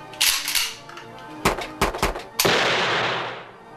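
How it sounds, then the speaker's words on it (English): Gunfire in a comedy show sketch: a quick volley of sharp shots, then a few separate loud cracks, and a final blast that rings out and decays. No talking. "He's shooting at us!"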